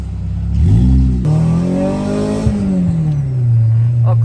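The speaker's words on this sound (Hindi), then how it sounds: "आवाज चेक करें आप गाड़ी की," A car fitted with a Toyota 2ZZ engine revs hard several times, rising and falling in pitch, loud and close with no talk.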